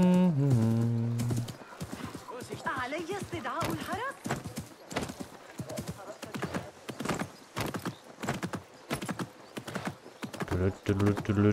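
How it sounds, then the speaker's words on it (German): A horse's hooves clip-clop in the video game Assassin's Creed Mirage, a close, steady run of hoofbeats with a whinny at the start and again near the end. "Da läuft ein Pferd bei rum."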